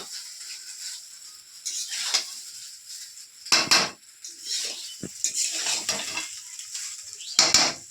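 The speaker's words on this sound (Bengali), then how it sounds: "যদি অল্প অল্প করে ভাতটাও মিশিয়ে দিলাম" Cooked rice is mixed into vegetables and boiled peas for fried rice, with a metal spatula scraping and clanking against the pan in irregular bursts. A few louder strokes stand out over quieter shuffling, close by, with no talking.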